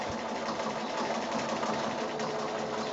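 A sewing machine stitching quilt appliqué runs in a fast, steady whir of needle strokes, close and continuous, with no voices.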